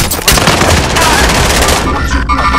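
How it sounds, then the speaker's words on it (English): Dense, loud automatic gunfire from Call of Duty: Modern Warfare in a continuous rattling burst across the whole moment, with no pause. "I'm taking fire"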